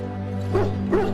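A dog in the Dragon Age: Origins video game gives two short barks or whimpering yips over a steady low hum of background game audio.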